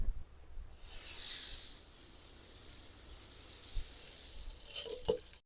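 Soaked rice and water are poured into a cooking pot, giving a soft hissing splash that swells early and then fades into quiet, with a few faint clinks near the end.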